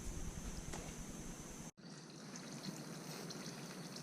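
Engine oil trickles out of a Honda CRF450RL dirt bike in a faint, steady dribble that breaks off briefly once and then carries on.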